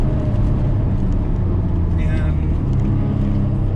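A 1988 BMW E28 M5 on fresh Michelin tyres drives along, its engine a steady, full drone heard from inside, with a voice talking faintly underneath.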